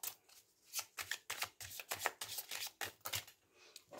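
Tarot cards being shuffled by hand, a rapid series of crisp riffling and slapping bursts in an uneven rhythm, close and fairly quiet, with no voices.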